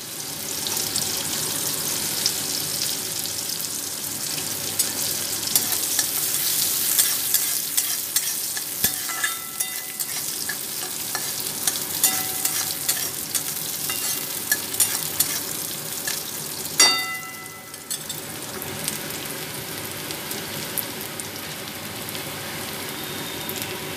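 Red chillies and onions fry in hot oil in a pan for poha, giving a loud, continuous hissing sizzle with occasional stirring clinks, close up and without talk.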